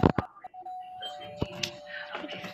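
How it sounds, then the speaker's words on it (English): Doorbell in the Roblox game Brookhaven, a few sharp chime hits near the start and again midway, with a sustained ringing tone between, mixed with faint game sounds and some voice. "Someone trying to ding dong ditch, is it?"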